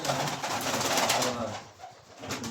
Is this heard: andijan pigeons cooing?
yes